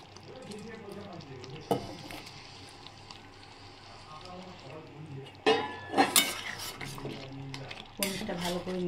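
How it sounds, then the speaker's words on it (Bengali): Paneer cubes stirred in a pan while making paneer butter masala, with soft scraping and faint sizzling, a few louder clinks of the utensil against the pan near the end, and voice-like sounds in the background. "পনিরটা ভালো করে মিশিয়ে নেব।"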